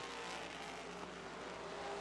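Race cars circle the Rockford Speedway oval, a continuous blend of engine roar from several cars at moderate distance, steady throughout without talk.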